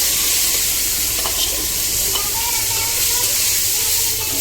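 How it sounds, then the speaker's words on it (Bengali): Shrimp being lightly fried in a pan for a pointed gourd curry, a steady close sizzle and hiss of hot oil running throughout with faint stirring clinks. "এবার চিংড়ি মাছটা একটু হালকা করে ভেজে নেব"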